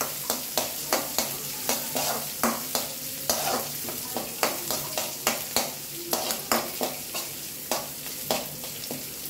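Onions frying in a pan, a loud constant sizzle punctuated by rapid, regular spatula scrapes and clacks against the pan, close and steady with no voices.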